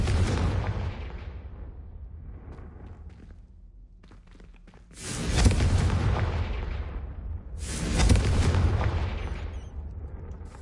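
Confringo fire spells burst in the video game Hogwarts Legacy as two heavy, booming explosions a few seconds apart, each with a sharp onset and a long rumbling decay, over a low continuous roar.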